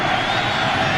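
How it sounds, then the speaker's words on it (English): Crowd noise in a football stadium during an NFL overtime game in Buffalo, a dense, steady roar that fills the space, with a commentator's voice over it. "Crowd noise picks up."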